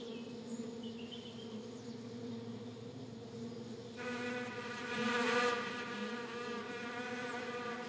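Honeybees buzz around the hives of a small woodland apiary, a continuous droning hum of many insects that swells louder midway as bees pass close to the listener, with no voices.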